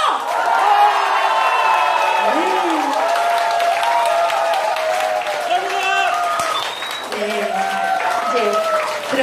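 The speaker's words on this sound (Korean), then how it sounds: "박수 함성!" A wedding hall crowd at a new-song showcase concert in Cheonan claps and cheers in sustained applause, with whoops and loud voices calling out over it.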